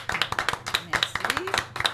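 Studio audience on a television talk show clapping for a guest, a steady patter of many hands close and lively, with a host's voice carrying over it.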